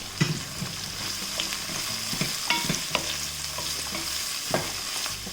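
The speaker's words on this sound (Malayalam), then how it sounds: "ഇതിവിടെ മൂത്ത് വരുന്ന സമയത്ത് നമ്മൾ ഈ സ്ലൈസ് ചെയ്ത് വെച്ചിരിക്കുന്ന സവാള ഇതിലേക്ക് ഇട്ടിട്ട് വഴറ്റി കൊടുക്കാം" Sliced onions sauté in a hot pan for a sweet and spicy egg curry, giving a steady low sizzle broken by scraping, knocking stirs of a spoon against the pan; close and alone, with no talk.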